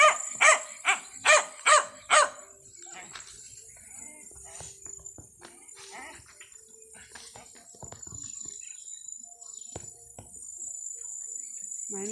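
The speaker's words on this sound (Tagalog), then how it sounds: "Yung aking aso nagwawala, gutom na." A hungry dog barks at a rural hut: about six loud, quick barks in a tight burst, then quiet with crickets and insects chirping in the background.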